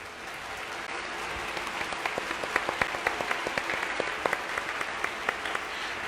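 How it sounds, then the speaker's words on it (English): Live-show audience giving a standing ovation for the performers, a steady wash of applause with sharp individual claps standing out, moderately loud and sustained throughout without speech. "We need a big round of applause"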